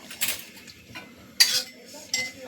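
A metal wok (kadai) set down on a kitchen stove, heard as a few sharp metallic clanks and scrapes spaced across a short quiet stretch, close by.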